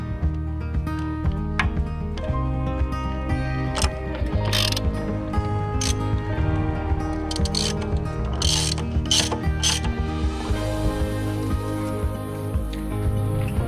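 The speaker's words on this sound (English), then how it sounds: "Alright, so we're using a socket here with an extension." A socket wrench with an extension loosens the track adjuster bolt on a mini excavator, giving a series of close ratcheting clicks over a steady mechanical hum.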